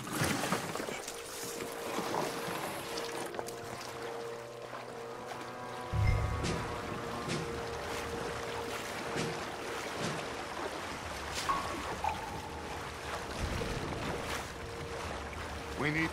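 Canoe paddling through water in Red Dead Redemption 2, with steady wet lapping and splashing strokes over a low ambient wash, plus a brief heavier thump partway through; no one speaks.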